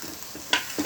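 Tomatoes, curry leaves and green chillies hit hot oil in a wok for chicken curry, giving a brief low sizzle with a couple of soft stirring clatters close by, no voices.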